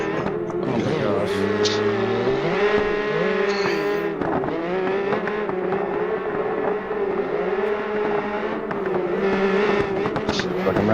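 Race car engines roar continuously in a racing video game, a steady loud drone with shifting pitch as cars run laps, layered with music-like tones and occasional tire squeal.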